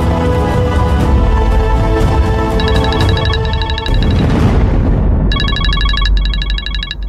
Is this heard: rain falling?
no